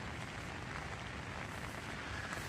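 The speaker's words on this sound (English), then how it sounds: "It's been raining all night." Steady rain patters on a tent at night, a constant broadband hiss with no distinct drops standing out, moderately quiet and continuous throughout.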